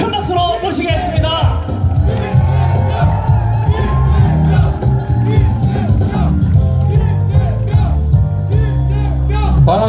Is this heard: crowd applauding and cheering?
yes